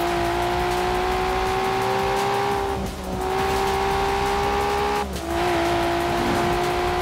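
A Nissan Skyline R34 in Forza Horizon 4 holds a loud, steady high engine whine with tire noise, broken by two brief gear-shift dips as the pitch drops and climbs again, with no talking.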